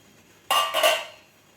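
A metal pot lid is lifted off a pot of steamed kanole, wheat dumplings, in a home kitchen: a sharp clink followed by a second scraping clatter and a brief ringing tail, close and clear in a quiet room.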